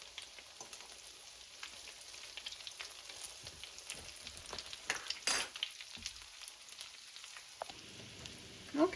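Tuna fish cakes fry in a pan, giving a steady close sizzle with scattered crackles and pops and a brief louder burst midway, heard alone without talk.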